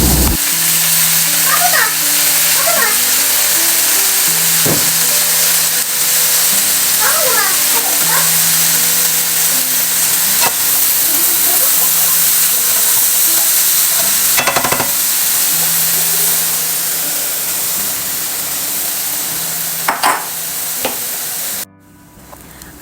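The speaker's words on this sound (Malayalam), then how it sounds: "എന്നിട്ട് ചീരയും ഇട്ടുകൊടുത്ത് കട്ട് ചെയ്ത ചീരയും ഇട്ടുകൊടുത്ത് പിന്നെ ഉപ്പും തേങ്ങയും ഇട്ടുകൊടുത്തിട്ട് അടച്ചു വെച്ച് വേവിച്ചെടുക്കുകയാണ് ചെയ്യുന്നത്." Chopped spinach thoran with garlic, salt and grated coconut cooks in a pan for a Kerala-style lunch, giving a steady close sizzle and hiss throughout, with faint tonal background sounds, until a sudden cut near the end.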